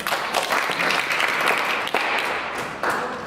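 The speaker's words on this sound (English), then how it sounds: "So can you give yourselves a big round of applause?" A crowd breaks into loud, sustained applause, many hands clapping together in a dense wash of sound.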